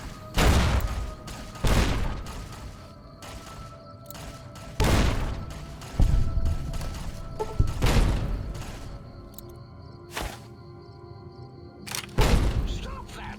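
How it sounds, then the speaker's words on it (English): Grenade explosions in the video game Fallout New Vegas: several loud, broadband blasts burst out at irregular intervals, each with a sharp onset and a short rumbling decay, over faint background game tones. "Let's just throw a couple of grenades at them."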